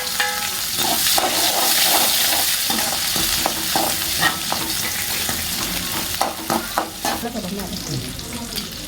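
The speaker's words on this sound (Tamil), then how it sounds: "கடுகு பொறிஞ்சதும் சின்ன வெங்காயம் வெட்டி வச்சுருக்கிற ஒரு பத்து வெங்காயம்" Mustard seeds and small onions fry in oil for a country chicken curry: a loud, busy sizzle with scattered sharp pops and scraping stirs, close-up with no voices.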